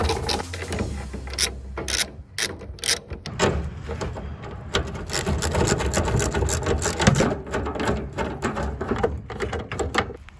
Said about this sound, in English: Now I'm about to drop the two 12mm strap bolts.